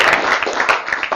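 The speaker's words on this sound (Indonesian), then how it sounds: "Jadi tepuk tangan untuk Anda yang di sini yang serius." A seminar audience claps briefly, a short burst of many hands at close range with some voices mixed in.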